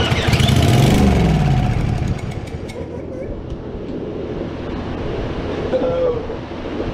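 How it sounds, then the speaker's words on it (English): A zero turn mower engine running steadily after a carburetor rebuild, a continuous close rumbling drone with a large shop fan blowing nearby, no talk. "Just let the motor run, burn that oil and crap off"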